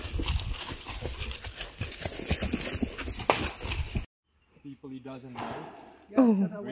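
Horses walking outdoors on a South African wildlife outing give off a busy run of hoof clip-clops and shuffling for several seconds, then the sound cuts away to people talking close by.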